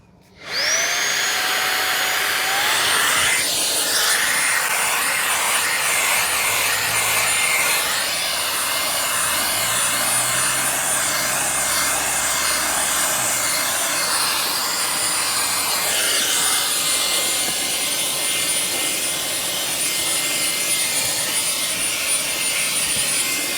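A Fanttik Slim V8 Mate cordless car vacuum fitted with a small brush nozzle switches on with a rising whine, then runs as a loud, steady high-pitched motor drone, its tone shifting slightly as the nozzle moves, without speech.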